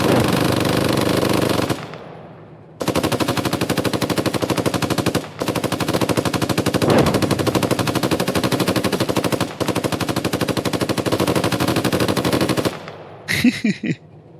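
Loud, rapid 7.62 machine-gun fire in the video game Gunner, HEAT, PC!, in long sustained bursts, broken by brief pauses, ending in a few scattered sharp impacts.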